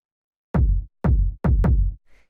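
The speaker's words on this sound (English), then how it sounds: "Just like a punchy, sort of standard, hard-hitting kick you would use in techno." Four punchy, hard-hitting electronic techno kick drum samples, each with a sharp click and deep thumping body, in an uneven rhythm, dry and close.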